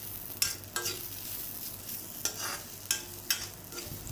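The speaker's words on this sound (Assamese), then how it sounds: "একদম ল' ফ্লেমত ভাজিছোঁ মই।" Dry fish fries with onions in oil over a low flame. A spatula scrapes through the pan in several spaced strokes over a faint, steady sizzle.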